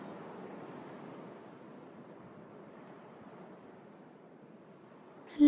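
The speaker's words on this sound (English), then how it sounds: "Now listen to the sound of the ocean." Ocean waves as a soft, steady wash of surf with gentle rise and fall, faint and distant, ending in a sudden brief louder sound.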